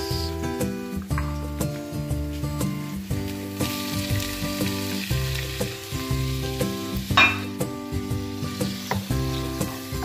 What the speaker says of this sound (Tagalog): Green onions, ginigisa muna natin.